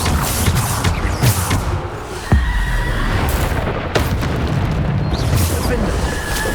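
Bombarda blasting spells burst in the Hogwarts Legacy video game amid busy combat effects, one sharp loud boom standing out near the middle over a constant dense rumble, with further impacts later.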